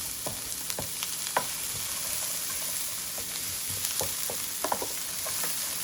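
Celery fries in a pan with a continuous hiss and crackle, punctuated by scattered sharp clicks and taps of stirring utensils; moderately loud with no voices.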